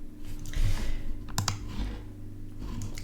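Computer keyboard typing, a couple of sharp close key clicks in the middle over a steady low hum, with faint scattered taps around them.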